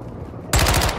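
Sudden burst of rapid automatic gunfire from enemy players in a multiplayer shooter game erupts after a quiet lead-in, loud and sustained with dense repeating shots to the end.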